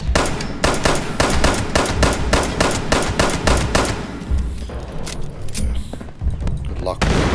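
Repeated grenade and gunfire blasts crack sharply and loudly in a Fallout 76 battle, about a dozen evenly spaced bangs at first, then looser scattered pops over background game noise.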